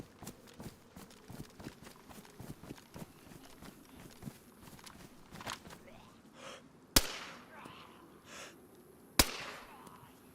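Two sharp gunshots ring out in the military zone of DayZ, a few seconds apart, over a background of quick footstep-like thumps and movement.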